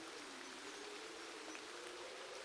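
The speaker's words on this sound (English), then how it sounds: "Still raining?" Steady, even rain hiss in the video game Zero Sievert, a faint continuous wash with no distinct drops or voices.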